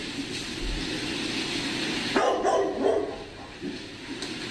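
A dog barks inside a kennel, a few muffled, mid-distance barks rising briefly out of a constant noisy background hum.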